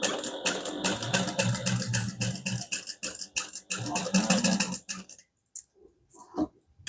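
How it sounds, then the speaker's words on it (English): A slightly squeaky sewing machine stitches a 1/4 inch seam in quick rhythmic bursts, near and loud, with a slight squeak, then stops and gives a few short runs after pauses. "I don't know if you can hear my sewing machine is a little squeaky"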